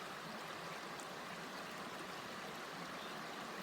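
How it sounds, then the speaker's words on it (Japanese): A quiet, continuous babble of a river flowing over stones in a riverbed, steady and unbroken throughout. "川のせせらぎをお楽しみください。"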